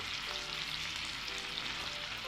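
Steady, loud sizzling of nabe hotpot ingredients frying in a hot pan, continuous hiss throughout with no voices.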